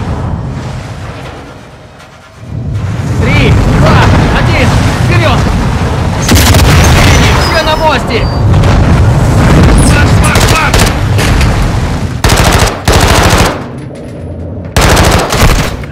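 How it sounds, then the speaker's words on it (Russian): A loud blast blows open a door in Call of Duty: Modern Warfare 2 amid heavy gunfire and booming, with rapid bursts and voices shouting over the chaotic combat noise. "взрываем вход на мостик"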